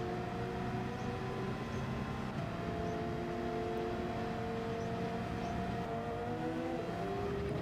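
Race car engine in Gran Turismo 7 during a Manufacturers Cup race, holding a steady droning whine with shifting harmonic pitches as it runs down the pit straight behind a Subaru, continuous and unbroken with no talk.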